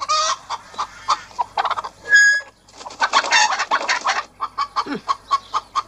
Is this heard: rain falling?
no